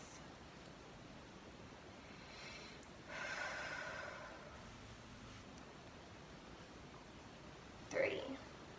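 During a Mayan abdominal massage, a soft, breathy exhale rises for about a second in an otherwise quiet room, followed later by a brief sharp sniff-like sound, all faint and close.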